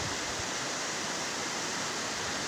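Rushing floodwater in Cabulihan roars as a steady, loud broadband wash, continuous and unbroken like a waterfall, with no voices over it.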